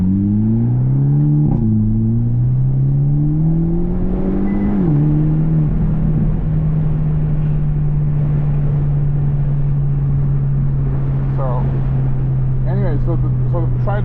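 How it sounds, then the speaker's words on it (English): A Hyundai Elantra N accelerates onto a highway, its engine climbing through two gear shifts before settling into a steady loud drone, with someone talking over it. "we're going to try accelerating here, going into the highway"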